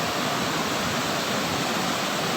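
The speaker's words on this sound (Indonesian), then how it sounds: "Ini suara derasnya air" Fast-flowing floodwater rushing past an old Dutch-era building, a dense, constant roar of churning water filling the scene loudly and evenly with no voices.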